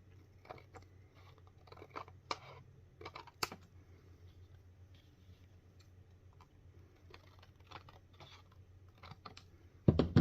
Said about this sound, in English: It's kind of hard to cut through that with your scissors, with all that paint and stuff.